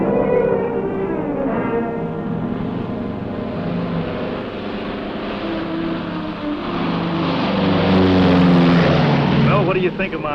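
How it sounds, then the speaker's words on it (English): Propeller airplane droning overhead, a steady broad engine hum that swells louder near the end, heard beneath conversation between two people. "I wish he'd take his plane and fly somewhere else"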